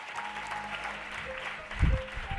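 A church congregation bursts into applause in acclamation, a dense patter of clapping with a louder swell near the end, and a voice runs faintly underneath.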